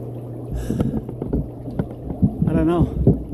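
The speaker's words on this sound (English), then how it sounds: "Now I'm getting bubbles down here" Air bubbles gurgle and burble from a PVC pipe diffuser aerator submerged in a fish pond, with a burst of bubbling toward the end, while someone talks nearby.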